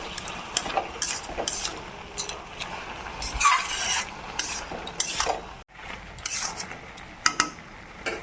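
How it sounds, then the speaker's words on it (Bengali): A spoon stirs ginger paste, green chilli, salt, turmeric, cumin and coriander powder in a pan for a raw papaya and mung dal dish, giving close, irregular scraping and clinking strokes with no talk. "তো এবার খুব ভালোভাবে একদম মিশিয়ে নেব।"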